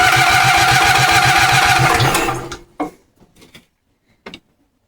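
A Wheel Horse C-175 mower's small engine, rusty and mud-covered, runs loud and close with a fast rhythmic chug, then dies away into a few sputtering pops and coughs.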